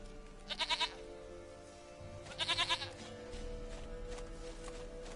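Two bursts of goat bleating from The Witcher video game, each a short quavering run of pulses about a second long, separated by a pause, with a steady low game ambience beneath and a faint voice underneath.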